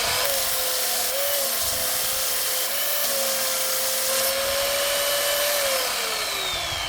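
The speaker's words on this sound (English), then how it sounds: "I'm going to go ahead and sand out another piece to be smooth like this one" Red oak wood being sanded smooth, a steady unbroken abrasive whir with a faint rising tonal whine, close and even throughout with no pauses and no talking.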